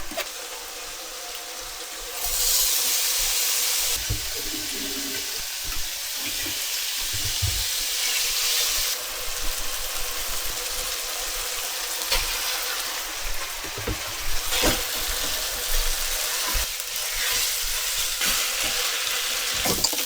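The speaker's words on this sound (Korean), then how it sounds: "고기를 먼저 넣어 볶아야겠지?" Meat stir-fried in a pan with minced garlic gives a loud steady sizzle, with bursts of stirring and scraping throughout and brief surges of hissing.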